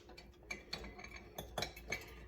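A spoon stirring a homemade Spam meat mixture with sugar and cornstarch in a bowl, giving soft scrapes and a few faint clinks at an uneven pace, quiet and close with no voices.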